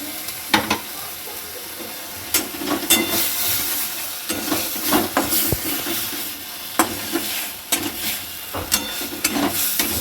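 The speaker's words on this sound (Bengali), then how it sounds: "এটাকে ভালো করে কড়াতে নেড়ে নিতে হবে যতক্ষণ না এটা ভাজা ভাজা হয়ে যাচ্ছে" Ground flat bean paste being stirred and fried in a wok, a constant sizzle broken by repeated scraping strokes of a spatula at an irregular rhythm, close and clear with no talking.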